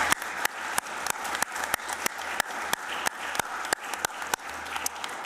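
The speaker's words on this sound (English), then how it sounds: "And I would like all of us to say thank you with a round of applause" A meeting room audience gives a steady round of applause, dense continuous clapping with sharp individual claps standing out, sustained at even loudness throughout.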